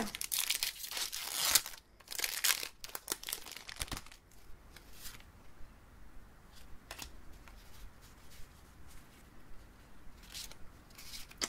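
Close, crinkly tearing and rustling of foil Pokémon booster card packs, loud bursts at first, then quieter intermittent crinkles and rustles.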